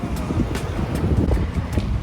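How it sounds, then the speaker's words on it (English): Wind buffets the microphone in low, uneven gusts outdoors in Seoul, a rumbling blustery noise with no talking. "It's kind of windy though."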